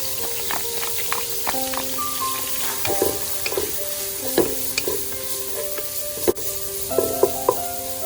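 Garlic and lemongrass frying in a pan, with a continuous sizzle and crackle, spatula scrapes and stirring clatter, and several short tonal clinks over the steady hiss.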